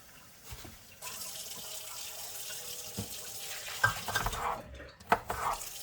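Water runs steadily into a vessel, a soft continuous splashing stream with a few clanks and knocks near the end.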